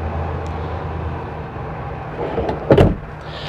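A storage drawer under a king size bed in a 2016 Keystone Fuzion 420 RV slides shut with one brief thump near the end, following a quiet stretch of low room hum.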